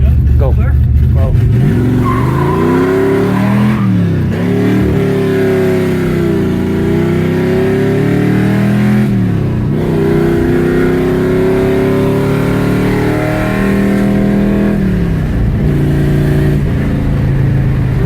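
A 1971 Plymouth Barracuda with a four-speed manual and open exhaust accelerates hard and loud, engine pitch climbing through several gear changes with brief dips between shifts.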